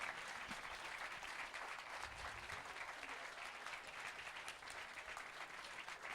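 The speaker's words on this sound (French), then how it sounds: "on peut l'applaudir bien fort, mesdames et messieurs." Steady audience applause fills a public outdoor event in a French village during a summer evening show with the mayor, dense clapping sustained throughout at moderate distance.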